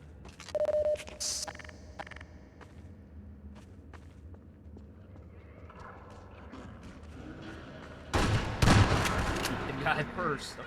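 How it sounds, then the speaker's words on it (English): Gunfire and mechanical weapon noises in the Xbox version of the first-person shooter Half-Life 2, with scattered clicks and shots building to a loud burst of firing near the end while a player talks. "Shoot the guy with the gun first."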